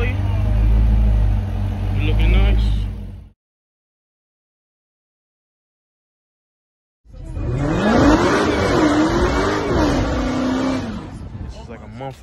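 Dodge Charger Hellcat V8 engine revving a couple of times, loud and close, first a short burst then a longer rising-and-falling rev after a pause, with a voice reacting over it.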